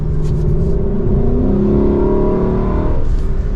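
A Lexus sports car engine hums in a low, steady drone while driving in its normal setting, the pitch rising gradually then dipping as it shifts. Loud and close, it carries alone without talk.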